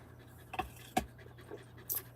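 Pet dog inside a truck on a warm day, a few soft breathy pants and short huffs at irregular intervals, close but quiet over a low steady engine-like rumble.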